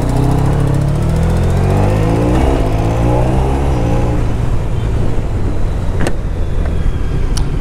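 An automatic motorbike from around 2010 with no clutch lever, put in drive and accelerating, its engine rising in a steady close drone with a couple of sharp clicks near the end.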